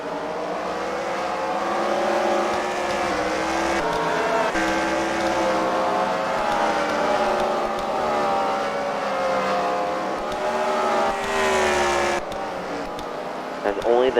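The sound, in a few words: race cars running laps on a track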